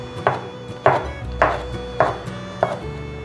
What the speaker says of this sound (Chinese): 把杏鲍菇切成小丁状。